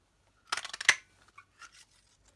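Scissors snip through card stock during Christmas card layering: a quick burst of several close, crisp cuts, then a few softer paper rustles and handling sounds, with no talking.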